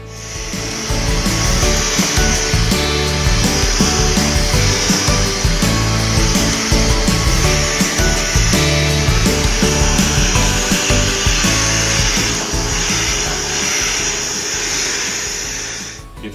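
A steady, loud motor whine with a bright hiss holds unbroken for about fifteen seconds from a Shark Pet-Perfect II cordless bagless hand vacuum running close by.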